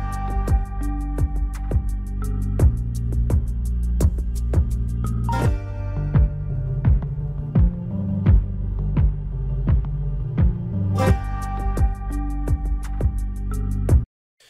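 Layered game music with a steady pulsing beat and sustained tones, switching in Wwise between two static music pieces, the change landing on a bar line midway and again near the end, loud and continuous with no talking.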